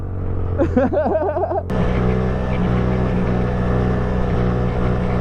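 Pit bike engine roaring steadily close by as it pulls a wheelie, a sustained loud buzzing drone after a brief voice at the start.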